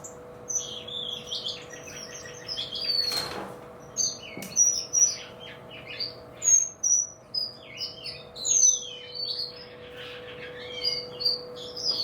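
Many small finches chirp and tweet in quick, high bursts throughout an aviary, overlapping each other over a steady low hum.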